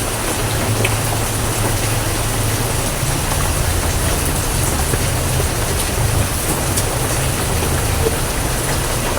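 Steady, dense rain patters continuously on surfaces, with a low rumble running underneath.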